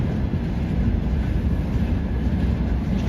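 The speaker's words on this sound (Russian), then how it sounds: "и туда поезд, и обратно поезд, и третий, и четвертый" A train passes close by near a suspension bridge in Ust-Ukhta, Komi Republic, giving a loud, continuous low rumble and rolling roar of rail cars throughout, with no voices.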